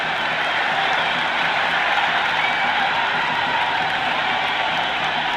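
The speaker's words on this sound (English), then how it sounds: "The spectators are absolutely buzzing right now." Stadium crowd in the Cricket 26 video game roaring after a six, a steady, loud wash of cheering and applause that holds evenly throughout with no break.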